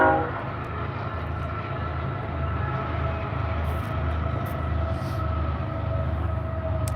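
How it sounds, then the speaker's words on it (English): Train passing close by with a loud, continuous rumble and a sustained horn tone held over it throughout, with no talking. "The train makes it hard."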